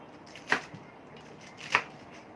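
Two sharp knife chops cutting vegetables for chap chai soup on a cutting board about a second apart, close and fairly quiet against a faint background hiss.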